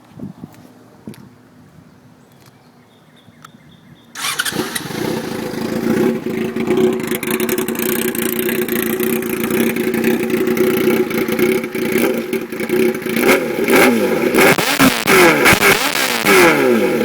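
Yamaha R6 motorcycle with a straight-pipe exhaust and no baffle, quiet at first, then firing up loudly and holding a raspy idle with repeated sharp revs toward the end.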